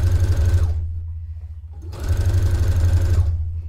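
An industrial sewing machine runs fast in two loud, close bursts of steady whirring, separated by a brief pause of near silence.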